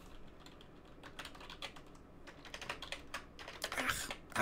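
Typing on a computer keyboard, a quick irregular run of soft key clicks that grows denser and louder toward the end, close by and with no talking.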